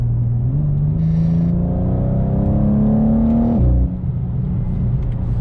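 A BMW M2 sports car's exhaust drones loud and close as the engine climbs steadily in pitch under acceleration, then drops off abruptly with a brief burble as the revs fall.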